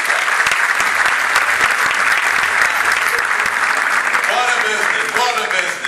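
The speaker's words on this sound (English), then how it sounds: "Can we give Mr. Scott McDaniel another round of applause?" Audience at a Saladmaster sales rally claps in a steady, loud burst of applause that carries on for several seconds, with a few voices and cheers surfacing near the end.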